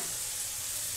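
Fried masala in hot oil sizzles loudly and steadily as potatoes go into the pan, a dense close hiss with a low stirring rumble beneath.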